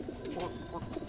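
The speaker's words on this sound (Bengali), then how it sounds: "এখানে দেখুন মা কবুতর বাচ্চা কবুতরকে খাওয়াচ্ছে কি সুন্দরভাবে" Mother pigeon feeding her baby pigeons gives soft, close coos and low throaty bird sounds, faint and continuous over a brief moment.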